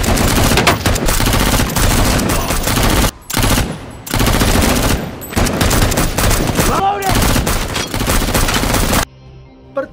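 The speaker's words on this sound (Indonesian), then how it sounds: "Letnan Pace yang memimpin penyergapan melepaskan tembakan" Heavy automatic gunfire rattles through a film shootout during a police ambush of a robbery crew, with sustained loud bursts broken by brief pauses and scattered single shots.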